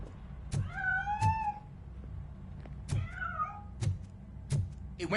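A cat meows repeatedly, several drawn-out and wavering calls spaced a second or so apart, with dull thumps and knocks between them as it scrambles to escape.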